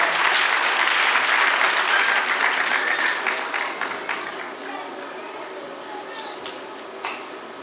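Audience applause at a stage event, following a call for loud clapping as a guest is welcomed; a dense, sustained wash of many hands that gradually thins and fades toward the end.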